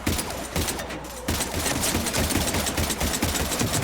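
Rapid bursts of gunfire shooting at husks in the video game Mass Effect 3, a dense continuous fusillade with clattering shots filling the clip, loud and close, without speech.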